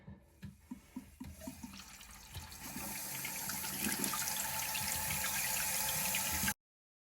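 A few clunks and clicks come first, then a toilet flushes into a steady rushing stream of refilling water that stops abruptly.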